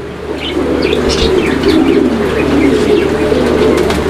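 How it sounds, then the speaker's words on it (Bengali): Pigeons kept as racing pairs coo steadily in a low, continuous murmur, with occasional chirps and wing flutters over a constant background hum; no talk. "দুইটা কবুতরে দেখেন।"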